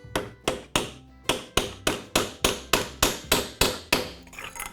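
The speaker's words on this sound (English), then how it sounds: "with this piece of metal tube, I can use this metal hammer" A metal hammer pounds on a metal tube, used to drive a shock absorber part into place on a 2018 Dodge Charger: about a dozen loud, ringing blows in a steady rhythm, up close and with no voices.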